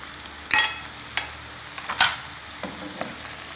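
Sweet peppers frying in a pan for a pumpkin shakshuka, with a low steady sizzle broken by a few sharp clatters and stirring scrapes, close and fairly quiet.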